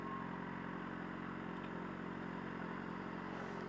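A motorcycle rides along in the evening, its engine a constant, dense drone with wind and road noise, loud and unbroken throughout, with no voices.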